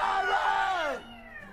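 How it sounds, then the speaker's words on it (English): A cat gives one long, loud, drawn-out meow in a comedy puppet movie, its pitch sliding downward before fading into a faint tail. "It's not a myth. The cat is back."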